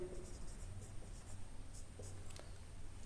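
Chalk or marker strokes on a classroom board during a physics lesson on reflection of light, a faint, fairly distant series of short scratchy marks with brief pauses, quiet background hum and no talking.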